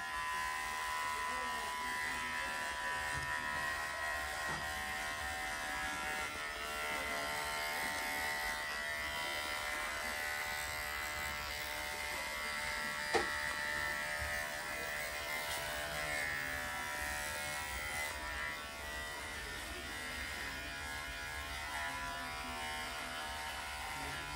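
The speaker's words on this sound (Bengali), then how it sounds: "আমি আমার বড় হেয়ার ট্রিমারটা নিয়ে নেব এবং তার সাথে কিন্তু আমি নিয়ে নেব নাম্বার 1 ক্লিপ" A large electric hair trimmer fitted with a number 1 clip buzzes continuously while trimming a beard, a steady close-up whine throughout with no break.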